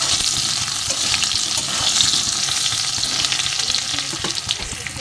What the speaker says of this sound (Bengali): আলু ভাজাটার মধ্যে হালকা একটু নুন দিয়ে ভাজছি